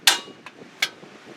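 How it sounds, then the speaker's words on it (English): A mallet or sledge strikes a Honda Civic tie rod end: a sharp, close metallic whack, a lighter tap, then another solid hit, all within a second and a half. "Give it a couple good solid whacks with a mallet or sledge."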